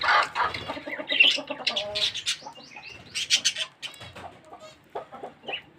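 Pigeons and parrots feeding on scattered millet, with a young pigeon among them: busy close-up bird calls, clucks and coos overlapping in quick irregular bursts throughout.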